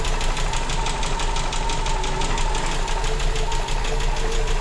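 A Volkswagen Gol CHT 1.6 engine running on gasoline idles smoothly and steadily, a close, continuous mechanical hum with a fine rapid ticking pulse throughout and no talk over it.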